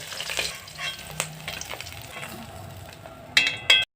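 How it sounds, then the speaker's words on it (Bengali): Pieces of katla fish frying in oil, a steady close sizzle and crackle with a few sharp clinks and spatters near the end. "এরকম করে সব মাছ ভেজে নেব"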